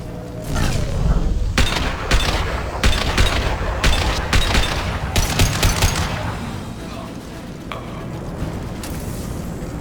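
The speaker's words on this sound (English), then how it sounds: "The Blue Suns and Vorcha shooting anything that moves." Gunfire in the video game Mass Effect 2 as mercenaries and Vorcha fight in a plague-ridden street, with rapid automatic bursts and booming shots layered over dense, loud combat noise.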